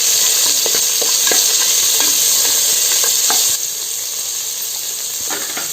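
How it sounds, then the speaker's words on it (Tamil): Onions sautéing lightly in a pan for mushroom biryani: a steady, close sizzle with scattered stirring scrapes and taps, the hiss dropping a little in level partway through, no voices. "இப்போ ஆனியன் ஆட் பண்ணிக்கலாம். அதை லைட்டாக வதக்கிக்கலாம்."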